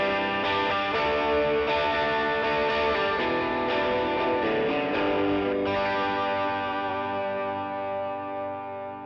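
An electric guitar plays through the second channel of an overdrive pedal on a budget pedalboard. Strummed, thick distorted chords ring out close and loud, then slowly decay.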